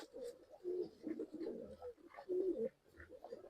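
Pigeons at a bird sale in Bangalore give soft, throaty coos in several short bouts, close and fairly quiet, with brief pauses between the calls.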